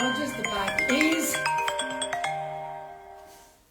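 A mobile phone rings with a melodic electronic ringtone, close and fairly clear, while a person talks over its opening notes before the tone fades away.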